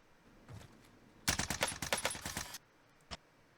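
Rapid burst of automatic weapon fire from a shooter game, a dense run of sharp shots lasting about a second and a half, preceded by a soft thud and followed by one isolated shot.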